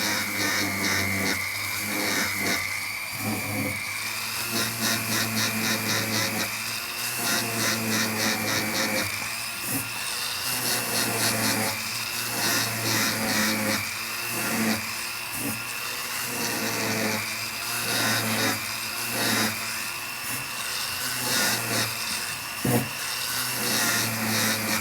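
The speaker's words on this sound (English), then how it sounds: "the position of the ring, moving it around and around, charging up the bristle brush quite often." A bristle brush on a polishing motor works a silver ring, giving a constant high whine with a rhythmic rubbing scrape that rises and falls as the ring is turned against the brush.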